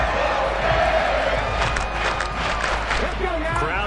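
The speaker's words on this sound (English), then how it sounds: "Crowd getting in it a bit already." A roaring football stadium crowd cheers and shouts during an American football game, a dense, steady wall of voices that rises and swells throughout without pause.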